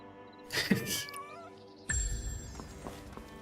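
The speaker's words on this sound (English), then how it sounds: "And I hear a cat." Cat meowing in the video game Where Winds Meet, with a short tonal cry early on and a louder harmonic cry midway, set against a steady game ambience with faint low thumps.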